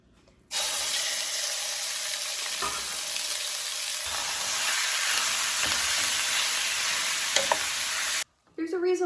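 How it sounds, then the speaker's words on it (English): Beef browns in hot oil in a pan, a loud continuous sizzle that starts abruptly, holds steady with faint scraping stirs for several seconds, then cuts off near the end. "And then we're gonna brown the beef."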